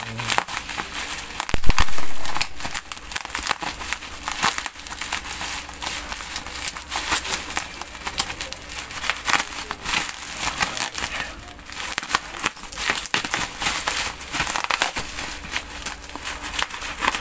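Crinkly plastic packaging of a delivered order being opened by hand up close, a steady run of crackling and crumpling with a louder rustling burst near the start and uneven surges throughout, with no clear talk.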